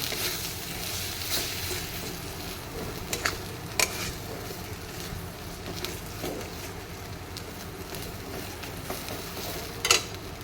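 Mustard paste sautés in a pan with a low, steady sizzle, punctuated by occasional sharp clicks and scrapes of a spatula against the metal.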